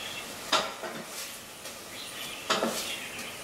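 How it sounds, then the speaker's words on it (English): Onions sautéing in a pan over medium heat, a faint steady sizzle with a few soft stirring scrapes of a utensil against the pan. "saute the onions until they get soft"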